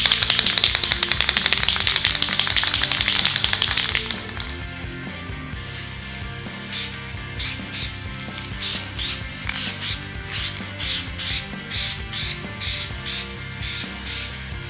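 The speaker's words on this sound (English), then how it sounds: "I'm still using the classic spray paint on top of the trash can method" A long continuous hiss of an aerosol primer spray can, followed by a series of short rhythmic spray bursts, close by with no talking, coating prop parts.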